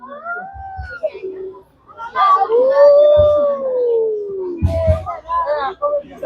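Indian wild dogs at Nandankanan zoo give a long, rising-then-falling whistling howl midway through, with shorter yips and calls around it and people's voices in the background.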